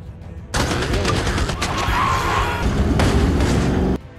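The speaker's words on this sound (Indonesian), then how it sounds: "Mario dibantu oleh Donkey dan berhasil menembakkan meriam ke arah mobil kura-kura tersebut." Cannon fire in an animated Mario story, a loud sustained barrage of booming blasts and rapid crackling shots that starts abruptly and cuts off after about three and a half seconds.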